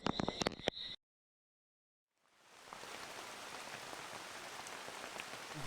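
Rain falls on a shelter in the wild, a soft steady patter that fades in after a few sharp knocks and a gap of silence, then continues evenly, quiet and diffuse.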